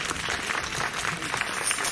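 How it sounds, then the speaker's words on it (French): Audience applause for the musicians at a Catholic mass in a church in Villemoisson-sur-Orge, a steady, dense patter of many hands filling the room, moderately loud and continuous. "Oui, vous pouvez les applaudir."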